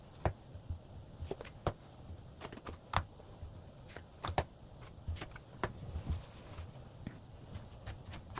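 Tarot cards are shuffled and drawn, giving sparse crisp flicks and slaps of card stock with short pauses between them, close and fairly quiet against a soft room hush.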